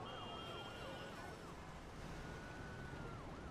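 Wailing ambulance siren sweeps up and down in Emergency 4 with a West Coast Canadian mod. It is faint and distant, over a steady noisy background.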